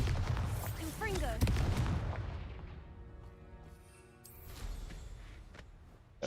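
Booming Bombarda and Confringo spell blasts from a Hogwarts video game crack out in several heavy bursts, with a voice talking over the first part.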